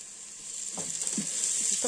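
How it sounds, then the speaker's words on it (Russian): A steady high hiss of carrots sizzling in a hot pan, with a few soft clinks or stirring sounds breaking in partway through. "И все это обжариваем."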